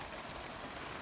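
Light, slow rain patters steadily on a carport roof, a soft, even hiss of drops with no other sounds.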